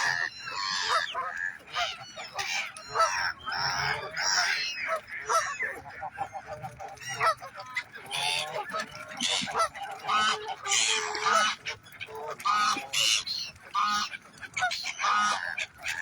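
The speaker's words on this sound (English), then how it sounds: "There's the duck." Ducks and geese calling at a lake, a dense, continuous chorus of loud honks and quacks from a large flock nearby, with no clear pauses.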